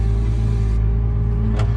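Steady, loud low-pitched drone of a Valtra tractor engine running close by on a slurry-spreading job for maize, with a brief faint hiss near the end.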